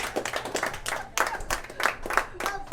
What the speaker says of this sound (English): Y'all should clap about that.